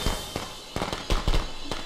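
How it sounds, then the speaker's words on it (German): Several video game firecrackers pop in quick irregular succession, sharp cracking bursts scattered across a couple of seconds. "Tommy steht in deinem Böllerhaufen."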